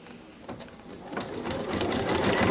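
A Baby Lock sewing machine stitches a quilt with the presser foot lowered, its rapid mechanical whir building steadily louder and faster over the few seconds.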